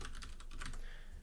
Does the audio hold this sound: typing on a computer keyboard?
yes